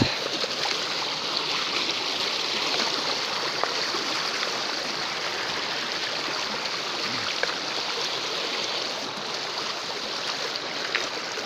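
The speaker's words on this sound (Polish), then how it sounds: "Fajnie woda szumi." A steady, broadband rush of stream water flows continuously, loud and close, with no voices.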